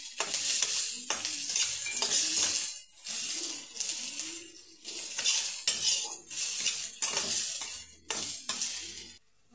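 Onions frying in heated oil in a village kitchen, a soft sizzle under repeated clinks and scrapes of a metal spoon stirring against the pan in uneven bursts.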